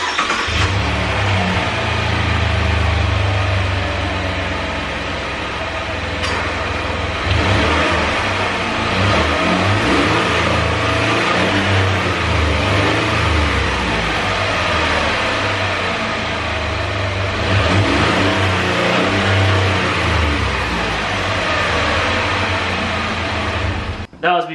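A stock 2017 Chevy Colorado Z71 engine idles and revs in repeated swells, a loud, close, rumbling motor sound that holds steady throughout, with a voice talking over it in places.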